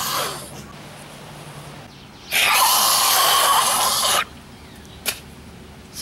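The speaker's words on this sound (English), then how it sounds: "Sorry, I was just clearing my throat." A person clears their throat in a harsh, raspy burst lasting about two seconds, close to the mic, followed by a brief short snort or sniff in a quiet room.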